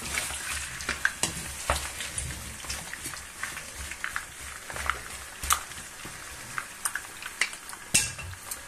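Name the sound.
potatoes frying in a pan, being stirred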